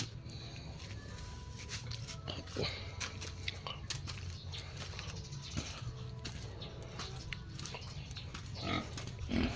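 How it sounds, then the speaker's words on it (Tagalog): Five native pigs in a sheet-metal-fenced pen on a rural property in Arayat, Pampanga, grunt faintly and sporadically under soft outdoor background noise. "Yan po yung mga native na baboy niyan, lalaki."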